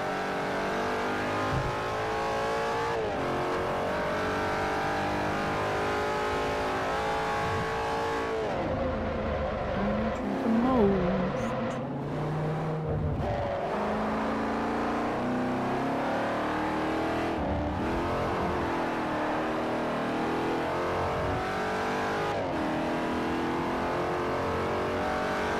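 Race car engines roar steadily throughout a Forza Motorsport 4 European tour race, a dense, loud drone of revving and shifting with a pitch swoop midway as cars jostle closely, no talk over it.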